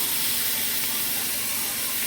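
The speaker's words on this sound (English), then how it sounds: "The skillet is hot, so we're going to put our steak in." A steak sizzles in a hot skillet with a steady, close, bright hiss that carries on evenly with no talking.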